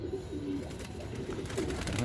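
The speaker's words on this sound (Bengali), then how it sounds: "উপরে 3টে পায়রা রয়েছে, 3টেই উড়ে গেছে।" Three pigeons on a rooftop coo softly with low throaty calls, heard near against a steady background hum, with faint voices in the background.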